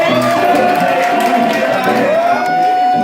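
Crowd at a live hip-hop show at The Bedford pub in Balham, London, cheering and shouting steadily and loudly throughout, with a sustained tone from the music riding over the din.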